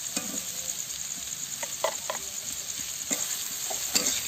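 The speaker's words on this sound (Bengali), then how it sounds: "তো কিছুক্ষণ আমরা নাড়াচাড়া করে দেবো।" Bitter gourd and egg curry stirred in a hot pan, a bright continuous sizzle with several clear scraping strokes of a spatula at irregular intervals, close and alone.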